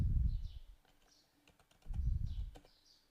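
A computer keyboard clicks with a short burst of keystrokes while a command is typed into a Windows terminal, faint and close, between stretches of low background rumble.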